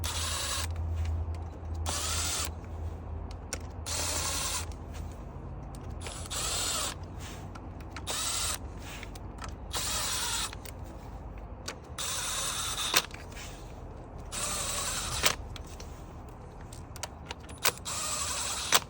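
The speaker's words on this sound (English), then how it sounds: "I'm going to set my impact to setting number 1, very light duty, and I'm going to go all the way around." Impact wrench on its lightest setting tightening bolts on an Audi/VW 2.0T engine, firing in short repeated bursts with pauses between, fairly close and moderately loud.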